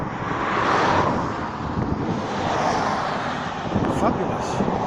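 Steady wind blowing across an open outdoor spot on a cold, sunny day, a continuous broadband rush that swells and eases in gusts, close to the microphone and fairly loud throughout.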